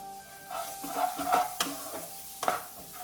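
Grated tomato goes into a pan of frying baby potato curry and is stirred through, with scraping spoon strokes and knocks against the pot over a soft sizzle, with no one speaking.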